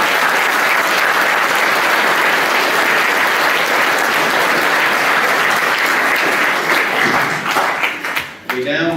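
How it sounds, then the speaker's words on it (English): A loud, sustained round of applause from a school assembly at a Year 10 prize giving for award winners, many hands clapping densely together before tapering off abruptly at the end. "Let's give them one more round of applause."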